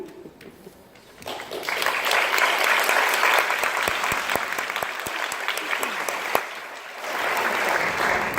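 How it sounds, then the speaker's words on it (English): Applause from a film festival Q&A audience after a shorts screening, starting with brief talk and swelling into sustained clapping that fades briefly and then picks up again. "let's give them another round of applause"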